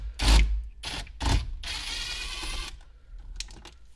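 A socket turning out 9/32 screws on a Ford F-150 during a backup camera install gives a few short ratcheting bursts, then a longer whirring scrape and faint clicks, close and fairly loud with no talk.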